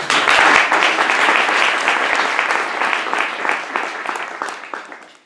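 A lecture audience applauds a dissertation prize recipient, a dense, loud burst of clapping from a full room that gradually thins and fades out.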